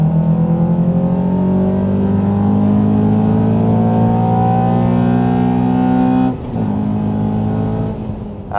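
A Toyota Altezza or Honda Accord sports sedan accelerating hard in third gear, its engine note rising steadily and loudly with a brief dip near the end, no talk.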